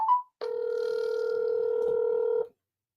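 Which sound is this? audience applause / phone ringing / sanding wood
phone ringing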